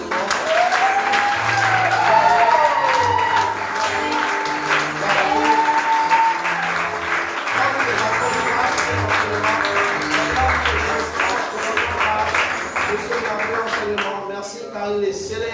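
A church congregation applauds steadily and loudly throughout, with music and voices mixed in beneath the clapping.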